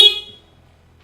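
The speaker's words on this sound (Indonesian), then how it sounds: "Dan ini tombol klakson" A short electric horn beep from a Piaggio Medley S 150 ABS scooter, loud and close, sounding once before quickly fading to quiet.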